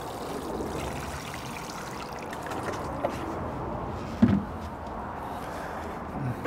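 Water pours and trickles steadily onto a block of coconut coir, a soft continuous wash with a brief louder splash near the end.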